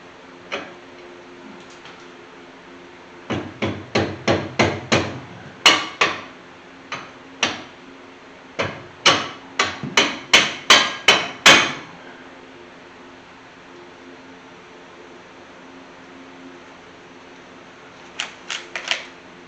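Sharp metal hammer blows on a 1981 Chevy C10 squarebody rear axle flip kit in a home garage, struck in quick bursts of several loud strikes with short pauses, then a couple of final taps.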